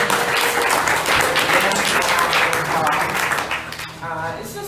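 A crowd at a community event for queer and trans youth gives loud, steady applause that fades toward the end as a voice begins speaking.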